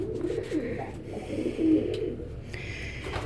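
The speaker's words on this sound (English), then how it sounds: "Here are all the pigeons being pigeons." Pigeons coo inside a home loft with swings and square perches, a steady overlapping murmur of soft, low calls that rises briefly in the middle and carries on without any talking.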